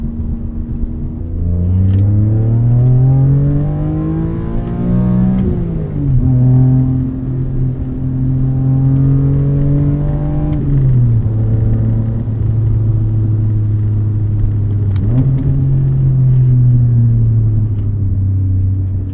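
A BMW E46 M3 with its S54 inline-six engine revs continuously and loudly for almost twenty seconds, rising and falling through several sweeps with no talk over it.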